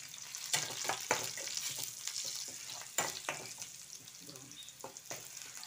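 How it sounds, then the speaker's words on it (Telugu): Onions fry in a pan with a pinch of salt for an egg fry, a moderate sizzle broken by several sharp scrapes and stirring clatters of a spatula, with no voices. "ఆనియన్స్ బ్రౌనిష్ వచ్చేదాకా వేయించాలంట. వేయిస్తున్నారు."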